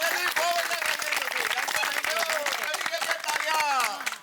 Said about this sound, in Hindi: इसलिए आप सब अपने लिए जोरदार ताली बजाइए।